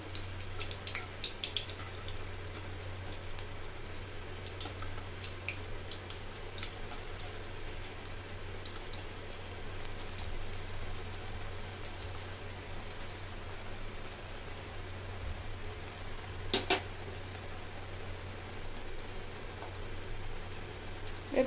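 Eggplant slices for beguni fry in plenty of oil with a constant fine crackle and scattered pops, close and steady over a low hum, one sharper spike near the end.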